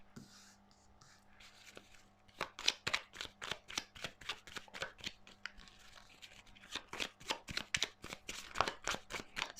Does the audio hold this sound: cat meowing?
no